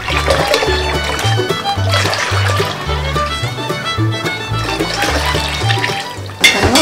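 Milk poured into a large pot of water for payasam during bulk home cooking, a steady splashing, gurgling liquid stream running close and loud with low rhythmic thumps beneath.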